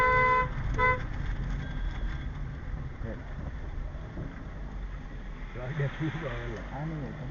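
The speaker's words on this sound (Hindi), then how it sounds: "गाड़ी आ रही है, एक गाड़ी आ रही" A car approaches on a mountain road near Rohtang Pass outside Manali, giving a couple of quick horn toots at the start over wind and engine rumble, while people talk nearby.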